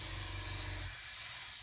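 Steady airbrush hiss spraying paint onto a 1/72 scale Das Werk U-boat U-9 model kit, a continuous close airy spray with a low rumble that drops away partway through.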